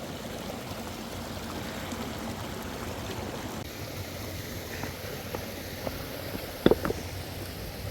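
Clear flowing stream water near a living root bridge in Meghalaya, a steady soft rushing and trickling that continues alone throughout, with a few faint splashes or knocks near the end.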